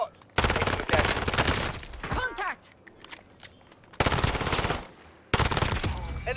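Rapid automatic gunfire in a video game match comes in two long, loud, dense bursts separated by a quieter stretch of scattered game sounds and chirps.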